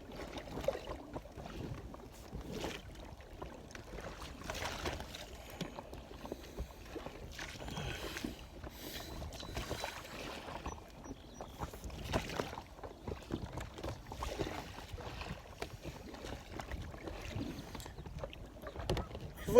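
A small rowboat or kayak glides across open water, with steady low churning and splashing throughout, gentle wind noise on the microphone, and occasional louder swishes near the end.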